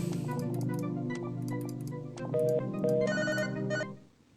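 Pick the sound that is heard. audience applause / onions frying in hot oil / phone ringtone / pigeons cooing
phone ringtone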